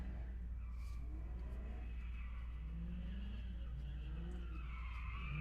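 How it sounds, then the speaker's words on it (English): A car skidding and revving outside, faint and distant under a steady low hum, with tire squeal and engine noise rising and fading over several seconds. "Can you guys hear that car?"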